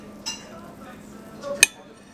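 Knife and fork clink against a plate while cutting into a home-cooked Belarusian meal: a soft scrape, then a single sharp, bright clink about a second later in a quiet room.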